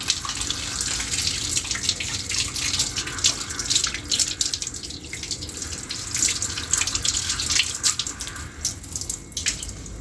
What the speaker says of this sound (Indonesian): Itu saya akan membilas menggunakan air mengalir.